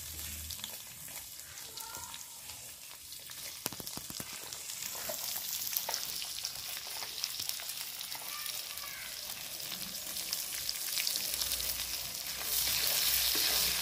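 Chopped onions frying in hot oil for a duck dish, a steady close sizzle with stirring scrapes that continues unbroken throughout and grows slightly louder toward the end.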